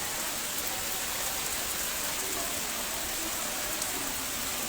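Heavy rain pours steadily during flooding in the Hay Al Qods neighbourhood of Mohammedia, a dense, unbroken hiss of water on surfaces that stays loud and even throughout.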